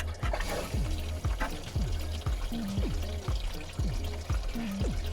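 Water flowing into a 60 litre water bladder fitted in a 4x4 touring setup, a steady close trickle and pour with repeated gurgling, bubbling pulses running continuously.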